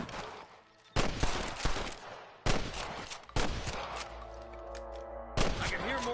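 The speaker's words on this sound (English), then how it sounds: "I can hear more gunshots." Sharp bursts of gunfire in the video game Red Dead Redemption crack out in quick succession, several loud shots with ringing tails, a voice briefly heard among them.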